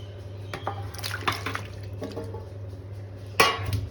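Thin potato slices drop into a bowl of water, with soft splashes, drips and a clink of dishware over a low steady hum.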